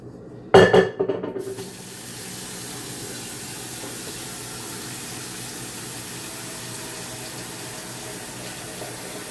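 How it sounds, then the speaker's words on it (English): Water runs from a tap into a stock pot in a home kitchen: a brief clatter and splash at the start, then a steady, moderately loud rush of flowing water continues with no talking. "So we're gonna get a little stock pot here, put some water in it"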